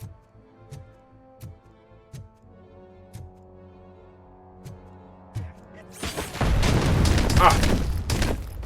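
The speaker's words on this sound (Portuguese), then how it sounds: "Que foi isso, velho? Essa explosão." In RoboCop: Rogue City, a steady series of sharp ticking beeps gives way to a sudden loud, broad explosion that roars and rumbles for the last couple of seconds.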